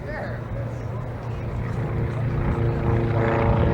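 A racing airplane engine at the Reno Air Races, the blue-and-white composite-wing number 96, gives a steady, loud propeller drone with a low harmonic hum that swells slightly toward the end, under a commentator's voice.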